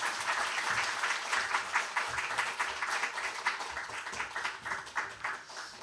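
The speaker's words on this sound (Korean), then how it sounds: "우리 박수로 좀 환영해 주셨으면 좋겠습니다." An audience at a twentieth-anniversary special lecture claps to welcome a professor, giving steady, fairly faint applause that lasts the whole clip with no voices over it.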